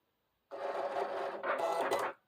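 A Cricut cutting machine working through a design, giving a soft mechanical whir and buzz that runs for nearly two seconds with a short pause and change in pitch midway, close and quiet.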